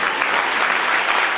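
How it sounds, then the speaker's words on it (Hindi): An audience at a national Arya youth council foundation day gathering bursts into dense, steady applause, many hands clapping close together and filling the short moment with no voices. "तो ताली बजनी चाहिए थी ना"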